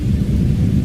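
A thunderstorm sound effect: a loud, deep rolling rumble of thunder, short and close, filling the moment on its own without voices.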